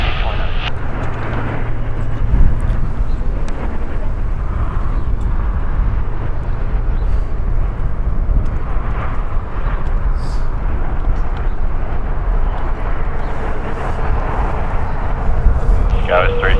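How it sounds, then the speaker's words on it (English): American Airlines Airbus A321 departing Los Angeles International Airport, a loud sustained jet roar that rumbles steadily throughout, with radio and voice talk running over it. "Departing here is American Airlines Flight 1448, going to Orlando, Airbus A321, 6 years old."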